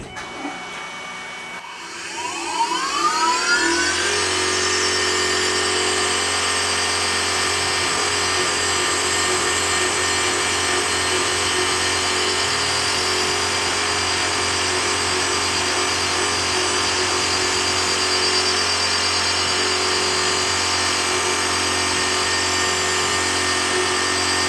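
A milling machine modifying a saw blade for drive pins spins up from a few clicks into a loud, steady mechanical whine and hum that holds evenly throughout, close and without talk.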